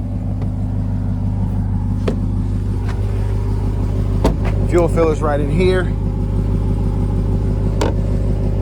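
A 2024 Dodge RAM TRX idles steadily nearby with a deep, droning exhaust rumble that holds level throughout, while someone talks over it.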